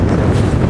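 Wind buffets a microphone aboard a boat out on the water, a steady, loud low roar with no break across a very short span.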